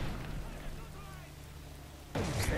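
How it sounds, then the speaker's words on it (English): A flashbang grenade detonates in Call of Duty: Modern Warfare 3, a sudden loud broadband burst near the end that cuts in over steady game noise and rumble. "Tossing a flashbang!"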